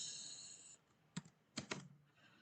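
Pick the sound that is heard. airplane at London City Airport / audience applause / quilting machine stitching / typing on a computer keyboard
typing on a computer keyboard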